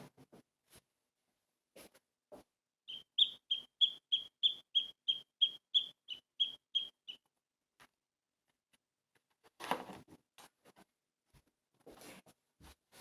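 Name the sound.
sparrow song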